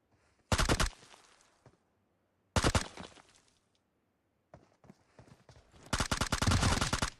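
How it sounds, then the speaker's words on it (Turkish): Three separate bursts of rapid gunfire in PUBG Mobile, the first two short and sharp, the last a longer volley, separated by near-silence. "Silah sesini duyunca nasıl geliyor?"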